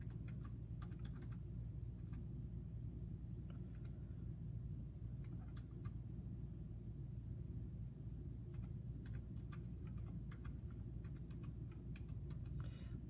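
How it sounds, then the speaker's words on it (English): Soft, quick keystrokes tap in irregular bursts on a computer keyboard over a low background hum, quiet and close. "I'm going to type them in with my keyboard"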